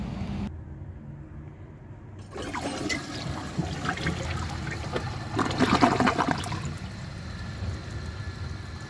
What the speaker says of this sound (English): So I will show you guys a flush, and then let's see how it does on tests.